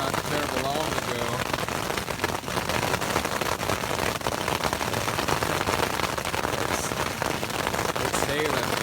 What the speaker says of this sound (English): It's hailing pretty good.